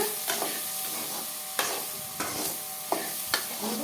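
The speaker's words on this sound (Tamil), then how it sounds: "கிளறி விடுங்க." Cowpea curry is stirred in a pan under a steady sizzle, with several sharp scrapes and knocks of the spoon at irregular intervals, close and clear, and no talking.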